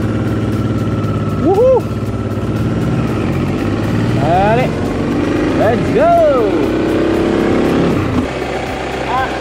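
Motorcycle engine idling at a toll gate, then revving and pulling away with rising engine tones, while a rider whoops and calls out over it.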